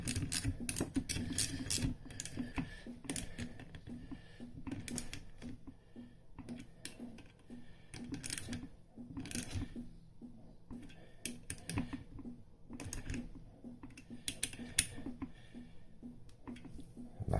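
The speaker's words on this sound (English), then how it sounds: "Then I'll do the rest of them with a ratchet." A ratchet tightens bolts into thin aluminium threads during a bottom-end rebuild of a 1994 Yamaha YZ80 two-stroke dirt bike engine, giving quiet runs of rapid clicking with short pauses between them.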